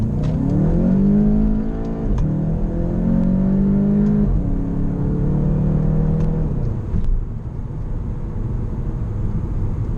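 A VW Golf GTI Mk7 accelerating in sport mode with DSG paddle shifting, its engine droning up through the revs with distinct dips at each quick gear change, then easing off to a low, steady cabin rumble.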